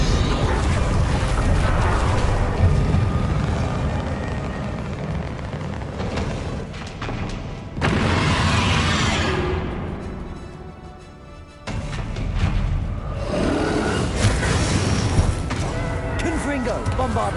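Confringo spell explosions in a Hogwarts video game burst out as heavy booms with long rumbling decay, loud and close, several blasts in succession with brief gaps, while a voice repeatedly calls out the spell names over them.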